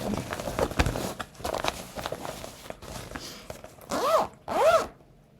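A clothing zipper is pulled open or shut in two quick, close strokes near the end, preceded by softer handling and rustling noises.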